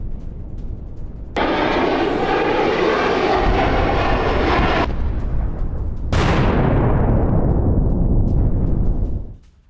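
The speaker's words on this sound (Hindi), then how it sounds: "यूक्रेनी MiG-29 विमान ने की है बम वर्षा।" A Ukrainian MiG-29 fighter jet roars overhead during an air strike: a loud, harsh engine blast, then a second powerful surge that fades away near the end, with no speech.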